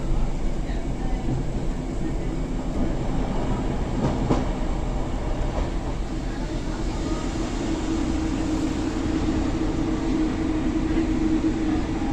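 Continuous heavy rumble and rattle of a train on rails, loud and close, with occasional clanks and squeals, no clear talking.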